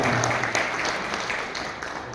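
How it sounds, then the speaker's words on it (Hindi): An audience at a state-level debate competition's prize distribution ceremony claps steadily, a dense, sustained wash of applause filling the hall throughout. "जोरदार तालियों से अभिनंदन स्वागत करते हुए"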